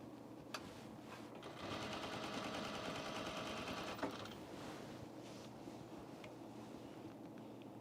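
An industrial sewing machine stitches an unlined auburn blazer in slow, deliberate bursts, a close mechanical rattle swelling for a couple of seconds over a steady room hum, with scattered clicks around it.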